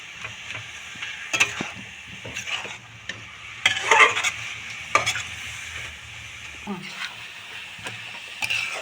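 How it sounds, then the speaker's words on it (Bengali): Grated coconut being stirred into jaggery in a pan for narkel pitha, with a spoon scraping and knocking in uneven strokes over a soft sizzle, close and fairly loud. "নারকেলটা দিয়ে পুরো গুড়ের সাথে আমি নারকেলটা খুব ভালো করে মিশিয়ে নেব"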